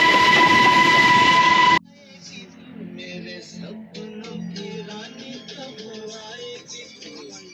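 Darjeeling toy train noise, a loud steady rumble with tonal whine for the first couple of seconds, then cutting off abruptly into quieter car-interior sound with music playing.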